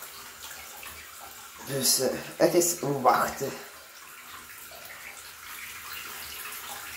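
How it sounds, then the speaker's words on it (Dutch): Water running from a tap into a container, a brief burst of splashing and gurgling that swells then fades back to a quiet hiss, with a person speaking briefly. "Zien is het water nu aan het lopen."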